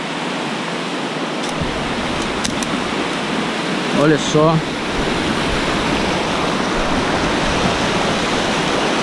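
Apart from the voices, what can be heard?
São Miguel waterfall in Poço Fundo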